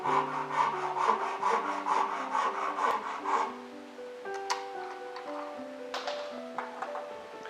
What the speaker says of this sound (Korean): 자르는 톱니를 써서 등대기 톱을 쓰시면 됩니다.